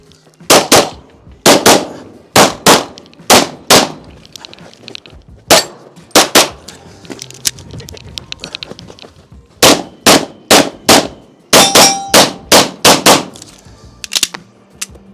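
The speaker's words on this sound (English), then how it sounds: "he shot those while on the move" Sharp, loud pistol shots crack in rapid strings with brief pauses between volleys during a practical shooting competition stage, each report ringing off nearby steel targets.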